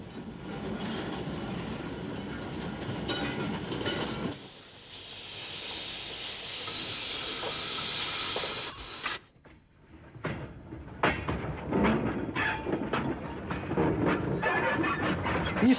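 Steam locomotives running at a quarry, with a steady clattering rumble of moving rail wagons and wheels that drops away briefly midway, then returns louder and busier.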